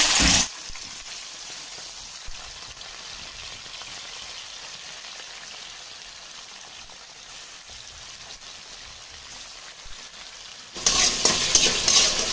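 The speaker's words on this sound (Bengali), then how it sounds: "এদিকে মাছগুলো ভেজে নেবো।" Fish frying in a pan gives a steady, close, continuous sizzle with no voices, swelling into louder, brighter crackling near the end.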